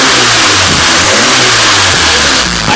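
A 1979 Fiat Spider engine fitted with a Weber 38/38 carburetor revs loudly and close by, climbing and dropping through several throttle blips over a steady running rumble, with no talking.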